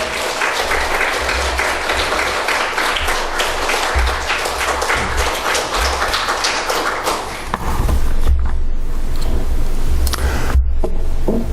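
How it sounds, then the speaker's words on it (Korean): A church congregation applauds loudly and continuously to welcome a pastor, a dense wash of many hands clapping for over ten seconds, thickening with heavier claps and thumps near the end. "우리 큰 박수로 우리 레이 목사님 환영해 주시면 감사하겠습니다"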